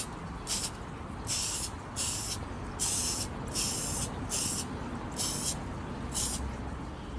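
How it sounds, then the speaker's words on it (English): An aerosol spray can hisses in repeated short bursts, about nine even blasts with brief pauses, as Tamiya BBX RC car body parts are painted; steady and fairly close, with no talking. "ready to give them a little spray"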